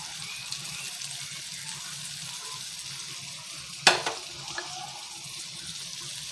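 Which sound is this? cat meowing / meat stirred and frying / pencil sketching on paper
meat stirred and frying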